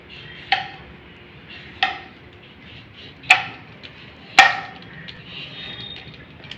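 A knife strikes a cutting board four times at a slow, even pace while cutting cucumber, each sharp chop crisp and close with quiet between.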